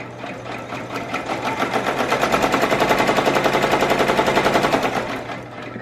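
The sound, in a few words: embroidery sewing machine stitching Christmas bow appliqué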